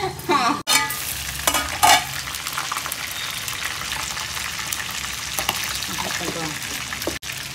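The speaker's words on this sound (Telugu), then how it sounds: "కొంచెం ఒక 5 నిమిషాలు ఫ్రై కావాలి." Chicken fries in a pan with a steady, close sizzle, broken by a few clattering stirs and scrapes near the start and a sharp knock toward the end.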